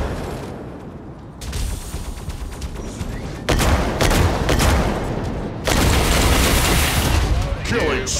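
Gunfire and explosions from the mech combat video game Mech Arena come as loud, dense bursts of shots and booms that swell in waves, with game voice announcements mixed in.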